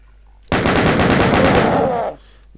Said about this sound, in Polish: Cholera, kto strzela?